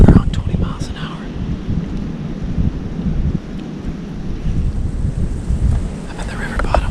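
Cold wind blowing at about 20 miles an hour across a river bottom, rumbling and buffeting a nearby microphone with uneven gusts throughout.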